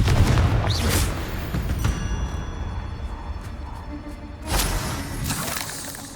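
A Confringo fire spell explodes in the Hogwarts Legacy game, a loud burst with a sharp onset, followed by a rumbling, crackling tail and a second blast later, with no talk.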